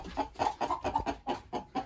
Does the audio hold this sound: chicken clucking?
yes